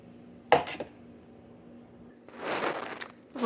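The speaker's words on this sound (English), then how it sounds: "I'm going to stir this in here with a big fork" A big fork stirs cream and mayonnaise into scone dough, giving a sharp clink, a quiet pause, then a longer scraping, mixing stretch ending in another clatter.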